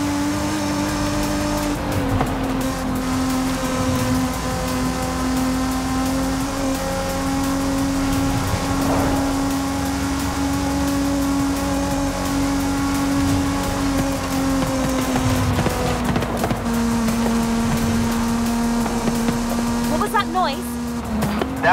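A sustained engine drone from a car in the racing game Forza Horizon 5 holds loud and steady at a high pitch, dipping slightly as the revs ease off near the end, with brief tire-like squeals mixed in.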